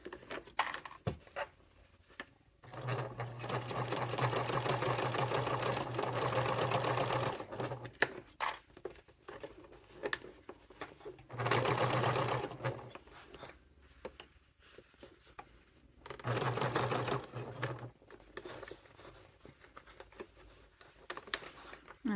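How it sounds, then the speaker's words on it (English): A sewing machine with a normal foot stitches around a thick satchel in three separate bursts of rapid, even whirring, with quiet pauses between them that carry small handling clicks and rustles. "I'm going to use my normal foot on this, and I will stitch all the way around"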